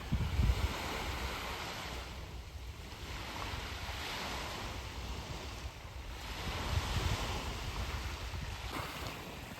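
Morning sea waves wash onto the shore in a steady, broadband rush with a couple of stronger surges, mixed with wind buffeting the microphone; no one speaks.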